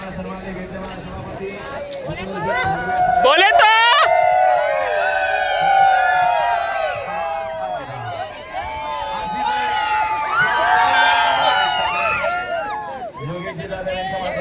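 A dense, loud crowd roars and chatters at a Thar bullock cart race ground, with shouting, whistling and a rising siren-like tone over steady babble, and someone speaking briefly amid the noise.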